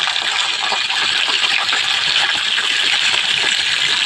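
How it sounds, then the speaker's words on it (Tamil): Curry leaves sizzling and spattering in hot oil during tempering for a rice dish, after chillies have fried; a steady, loud, close crackling hiss runs throughout with no talk. "இப்போ நான் கருவேப்பிலை சேர்க்குறேன்."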